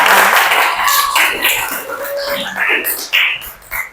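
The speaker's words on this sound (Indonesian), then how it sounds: "Oke, tepuk tangan dulu buat Syafira." A group claps for a girl named Syafira in a small Indonesian gathering, a short burst of uneven hand claps and taps, near and lively, fading out with light chatter around it.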